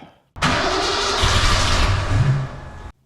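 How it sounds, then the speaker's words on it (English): A 2,306-horsepower V8 cranks and catches after sitting in storage, roaring loudly and steadily for about two and a half seconds before cutting off abruptly, with no voices over it. "Let's see if it starts first try."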